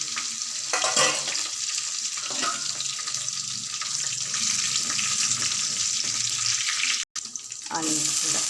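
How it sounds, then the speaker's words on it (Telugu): Tempering spices sizzle in hot oil for a Telugu dosakaya pappu (cucumber dal), a steady close frying hiss that runs nearly unbroken with small stirring bumps and one brief dropout near the end. "ఆయిల్ వేడిన వెంటనే తిరగబాత వేసేసేయాల్సింది."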